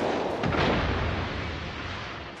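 Heavy naval guns boom in a World of Warships clan battle at tier six, a single loud, rumbling blast that rolls out and slowly fades beneath lingering sea-battle ambience.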